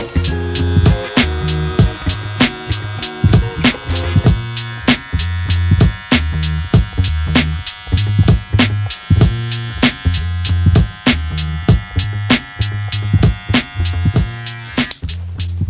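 Electric hair clippers run steadily and loudly close by during a wavy-haired self-cut, with a constant motor buzz and repeated short bursts as the blades pass through hair, and no one talking.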